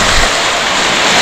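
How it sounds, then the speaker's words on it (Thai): Sea waves wash loudly against a southern Thai shore, a dense continuous roar of surf mixed with wind buffeting the microphone, with no talking. "น้ำเสียงคลื่นรบกวนพอสมควร"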